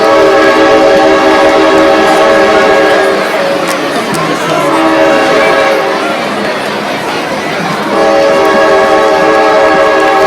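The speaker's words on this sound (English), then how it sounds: "See what that train just did to us" Loud, steady train horn blaring for about ten seconds near a middle school band event in Lebanon, its stacked harmonic tones dipping slightly midway, with crowd murmur underneath.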